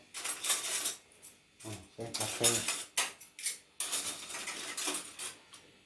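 A metal pan and utensils clatter and scrape in sharp, irregular bursts near the listener while Thai dishes are cooked, with brief quiet gaps between the clanks.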